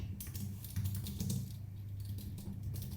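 Quiet, rapid typing on a computer keyboard while building a clicker game, a steady stream of soft close key taps with brief pauses between bursts, no talk.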